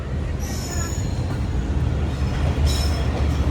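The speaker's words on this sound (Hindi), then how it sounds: "ट्रेन हमारी अप्रोच बना रही है लांडी जंक्शन रेलवे स्टेशन पर" The New Khushal Khan Khattak Express approaches Landhi Junction railway station with a steady low rumble and rolling wheel noise, and high wheel squeals rise twice, heard from inside the coach.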